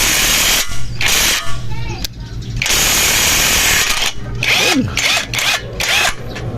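An impact wrench loosens a rusted bicycle bottom bracket in loud, close bursts of harsh buzzing and hammering, broken by short pauses, and the bursts grow more rapid toward the end.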